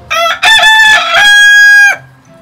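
A rooster crows loudly and close by, opening with a short clucking note before one long drawn-out cock-a-doodle-doo call that cuts off cleanly.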